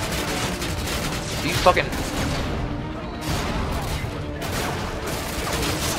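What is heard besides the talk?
gunfire in video game Call of Duty Modern Warfare 2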